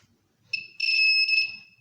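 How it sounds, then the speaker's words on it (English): A shrill electronic buzzer switches on and holds a steady high-pitched tone for about a second, close by, after a brief blip. "this buzzer is turned on"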